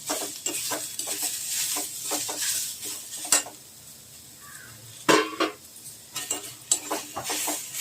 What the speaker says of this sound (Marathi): सगळा मसाला एकत्र भाजून घ्या.